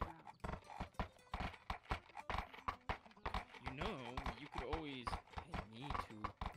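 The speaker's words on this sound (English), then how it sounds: "I am feeding 3 different horses right now." Horses in a medieval video game clop along in a steady hoof rhythm with repeated whinnies and neighs, close and clear, while people talk over them.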